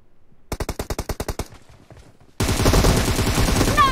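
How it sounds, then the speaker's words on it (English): Machine gun fire in the mobile battle royale game PUBG Mobile, a rapid burst of about ten evenly spaced loud shots, a short pause, then a dense sustained stream of gunfire with clattering mechanical noise. "Take the machine gun."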